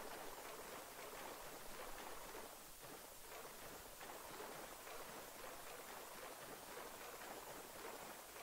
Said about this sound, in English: I'm crossing the water right now.